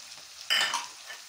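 Baghair fish frying in a pan as turmeric powder is added and stirred in, a short burst of sizzling and scraping that rises suddenly then fades, alone and fairly close.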